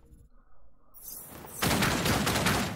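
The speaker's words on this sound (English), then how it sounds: "Nice, so we got little pew pew pew now." Gunfire from a weapon in the video game Outcast: a dense, continuous burst of shots swells up after a quiet start and holds loud and steady to the end, with no talking.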